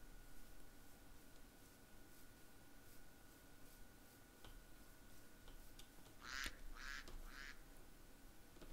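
A duck in a Minecraft swamp lets out three quick, fairly close quacks near the end, over a steady low ambient hum with a faint constant tone.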